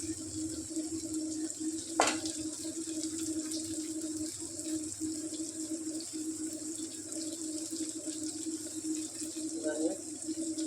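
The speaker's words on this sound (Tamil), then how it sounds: "தண்ணி ஊற்றி கலக்கிக்கணும்" Water splashes and swirls in a vessel as it is mixed, with a steady background hum and a few clinks.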